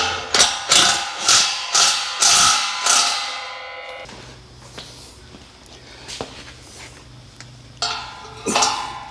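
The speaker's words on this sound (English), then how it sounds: "I'll have to get a spanner on the other one here." A spanner ratchets a bolt on a steel mezzanine floor frame, a run of loud, evenly spaced clicking bursts up close, then quieter handling noise and a few more clicks at the end.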